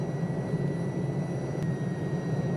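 An Alouette III helicopter hovering in Microsoft Flight Simulator gives off a steady low turbine and rotor hum, constant and even, with a single sharp click partway through and no voices.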